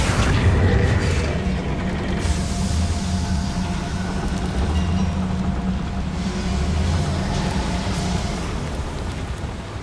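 Confringo blasting spell going off inside a mine in Hogwarts Legacy, an opening boom that settles into a long, heavy rumbling roar lasting several seconds, loud and alone with no voices.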